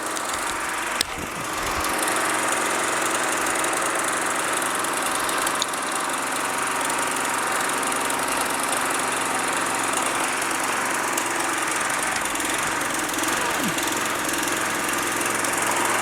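A Toro lawn mower with a blade clutch, in rough condition, starts and runs with a steady, loud engine drone close by that holds evenly throughout, with no talking over it.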